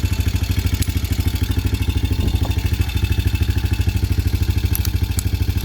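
A Honda Recon Fourtrax ATV engine idling close by, with a loud, even, rapid thumping pulse and a light mechanical clatter over it, with no voices.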